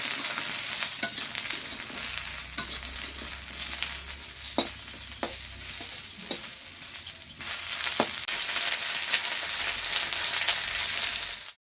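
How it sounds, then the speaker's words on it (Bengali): Bitter gourd (karela) slices frying in a pan, a steady sizzle running throughout with scattered stirring scrapes and clicks, fairly close and moderately loud. "এই করলা ভাজাটা কিন্তু খেতে দারুণ লাগে"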